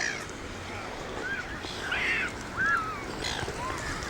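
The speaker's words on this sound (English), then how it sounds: "I can hear the seagulls, who are no doubt waiting for some chips." Several seagulls on a beach cry out in short, squealing calls at moderate distance over a constant rush of wind and background noise.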